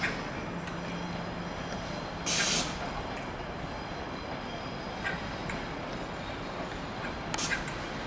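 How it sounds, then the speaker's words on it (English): Steady hum of an 11-car Pendolino electric train at a platform, with two short bursts of hissing air partway through. "Here's my train, the 11:49 to Glasgow Central, and it is an 11-car Pendolino."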